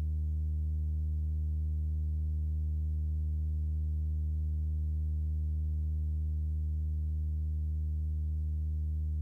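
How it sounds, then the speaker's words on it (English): Steady square and triangle waves from a Eurorack synth patched into an Esquivel VCF, a continuous unfiltered drone with strong low harmonics, holding evenly and alone without any change. "I'm adding a square wave and a triangle wave to inputs 2 and 3 of Esquivel."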